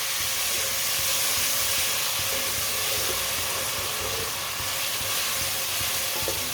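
Chopped tomatoes and green chilies frying in a pan over a medium flame, giving a loud, continuous sizzle and hiss that runs steadily from start to finish with no talking.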